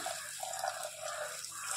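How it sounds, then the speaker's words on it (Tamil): Pea cooking water pours into a curry in a steady, splashing stream for a couple of seconds, close and continuous. "பட்டாணி வேக வச்ச தண்ணியை இதில் நான் ஆட் பண்ணிக்கிறேன்."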